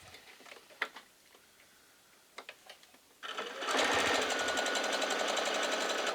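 A sewing machine stitching quilt block fabric starts after a few faint clicks and taps, then runs steadily and loudly at close range in a fast, even whir that carries on to the end.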